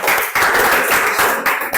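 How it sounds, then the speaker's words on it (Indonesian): Students clapping in a classroom, a short burst of loud, close, rhythmic group claps pulsing in quick waves. "Tepuk tangan dulu dong"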